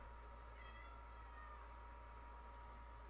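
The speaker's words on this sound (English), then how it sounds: "I apologise if you heard the meow." A cat meows faintly a couple of times indoors, very quiet and distant over a steady low electrical hum, with no talking.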